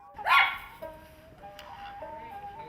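A frisky dog playing with its elderly owner on the Philosopher's Path in Kyoto gives one loud, close bark, followed by softer whimpering and yipping sounds.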